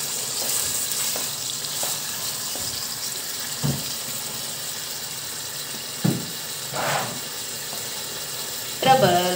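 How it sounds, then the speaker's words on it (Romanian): Meat fries in lard for Hungarian goulash, a steady close sizzle throughout broken by a few clinks and stirring sounds. "Să lăsăm un pic să se facă în untură."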